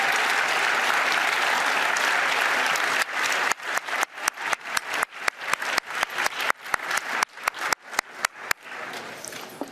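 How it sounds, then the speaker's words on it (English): Dense audience applause fills a LUX Audience Award ceremony hall, steady and loud at first, then thinning into scattered individual claps that trail off near the end. "Yes, you can keep applauding them"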